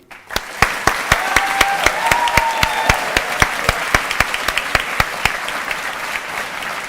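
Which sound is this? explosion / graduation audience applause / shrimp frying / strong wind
graduation audience applause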